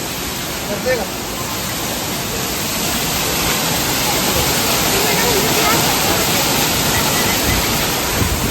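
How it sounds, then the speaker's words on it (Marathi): A waterfall pours in a steady, dense rush of water that holds evenly loud throughout, with no breaks or pauses. "काही बघू शकता धबधबा कसा आहे पाण्याचा"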